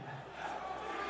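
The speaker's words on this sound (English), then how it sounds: "We get some DRX chants from the crowd." Crowd at a League of Legends World Championship 2022 esports arena chanting for DRX during a group-stage match, a dense steady roar of many voices filling the whole moment.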